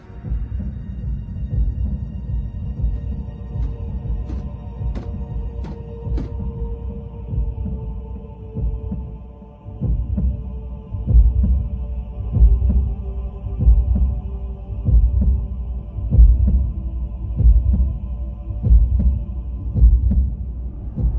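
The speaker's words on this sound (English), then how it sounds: "A Cybertronian heartbeat?" A Cybertronian heartbeat rendered from converted data as a heavy, pounding sound effect: deep low throbs repeat steadily for about twenty seconds under a droning hum, with a few sharper clicks early and the beats growing stronger later.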